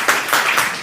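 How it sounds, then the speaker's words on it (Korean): An audience at a book concert gives a brief burst of dense applause, loud and close. "다시 한번 박수 부탁드립니다"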